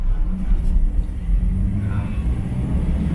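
A Morris Minor on a road test gives a steady low engine rumble heard from inside the car, constant and moderately loud.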